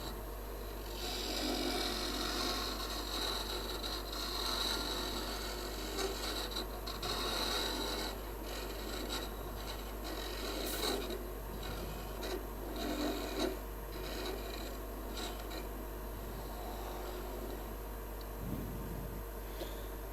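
Steady, continuous scraping of a rasp working wood out of a deep hollow form, rhythmic strokes repeating close up with a persistent low machine hum underneath.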